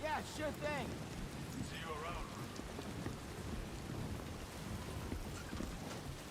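Timefall rain patters steadily in Death Stranding 2, with a low rumble of thunder underneath and voices talking over it.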